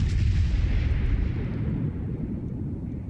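Main guns of the battleship Missouri firing in World of Warships, a single deep, loud boom rolling off into a long rumbling decay.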